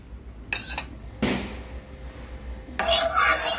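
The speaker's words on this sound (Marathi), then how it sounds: "पूर्ण कढईला तूप लावून घ्यायचं" A metal spoon spreads ghee around a hot kadhai before rava is roasted for laddoos, giving a few close scraping and clinking strokes with short pauses between them and no talking.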